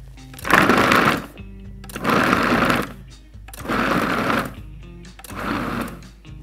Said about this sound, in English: Just gonna put the cover on the food processor, and then we're gonna pulse it